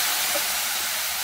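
Shishito peppers and dried anchovies sizzle in hot oil while being stir-fried, a loud continuous bright hiss with a faint clatter near the end and no voices.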